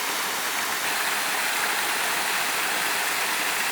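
Natural stream water rushes through bunds and small artificial pools in the Amazon rainforest, a dense, steady, loud wash of flowing water with no pauses or voices.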